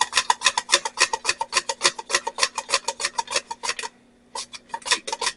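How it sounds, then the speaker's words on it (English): Potatoes are run rapidly across a mandoline slicer into a greased 9x13 pan, a loud, steady train of crisp rasping slices that stops briefly, then resumes. "we're going to start running these through here and get these potatoes in that greased"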